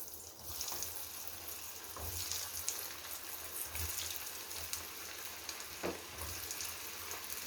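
Baby potatoes frying in oil in a pan give off a continuous, close crackling sizzle, with occasional louder pops and stirring scrapes.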